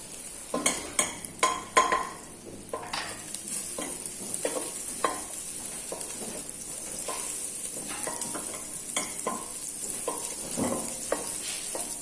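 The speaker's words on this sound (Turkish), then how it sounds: "Bir kaşık tereyağı şimdi onun içine bırakalım. Tereyağımızı eritelim." Butter melts and sizzles in a pot for arabaşı soup, a steady close frying hiss with a quick run of spoon clinks and stirring scrapes near the start.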